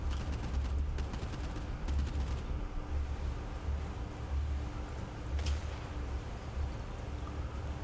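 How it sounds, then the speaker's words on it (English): Enemy gunfire from mortar and weapon positions in the Boat Crew naval combat game, heard as repeated loud bursts and booming volleys over a steady low rumble, with sharper cracks standing out near the start and midway. "The enemy are firing back at us."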